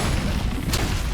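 Nergigante's dive bomb attack in Monster Hunter World, a single heavy, booming impact that fills the brief moment with a loud low rumble and no talking.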